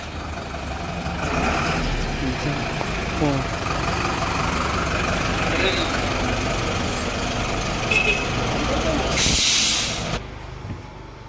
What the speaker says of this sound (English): Finally, the bus has arrived after 15 or 20 minutes.